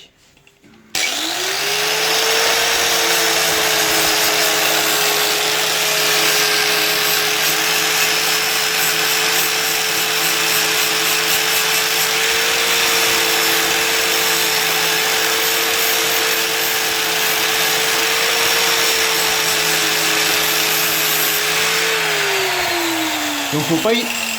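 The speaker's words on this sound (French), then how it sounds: "Donc il faut meuler pour pouvoir mettre la petite grille." An angle grinder grinds down melted plastic during a plastic repair. It starts abruptly, holds a loud, steady motor whine for over twenty seconds, then winds down at the end.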